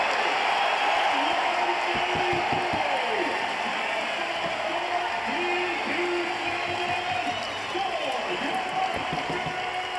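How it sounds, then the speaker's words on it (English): Arena crowd at a college wrestling match cheers and applauds in a sustained, fairly loud roar, with commentators talking over it throughout. "Jacob Van Dien gives this crowd something to cheer about."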